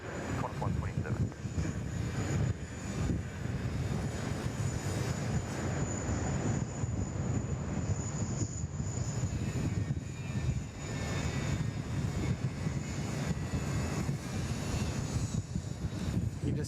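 A jet airliner departs Sydney Airport into a strong northeasterly wind, its engines a steady, broad roar that holds loud throughout with no speech over it.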